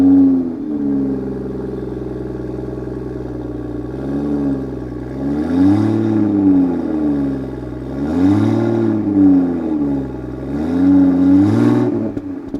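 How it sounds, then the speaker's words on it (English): A 2021 Toyota Supra 3.0 GR sports car revs repeatedly through its exhaust, about four rising and falling engine sweeps over a steady idle, loud and close, with no voices. "I would give you guys an exhaust note on this car just because it sounds so amazing"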